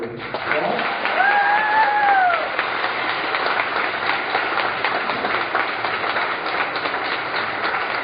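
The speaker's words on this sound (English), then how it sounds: "Please give them a big round of applause." Audience applause for congressional candidates at a New Hampshire 1st District Republican debate, a steady wash of clapping from a crowd lasting several seconds, with a brief whistle near the start and the sound slightly muffled.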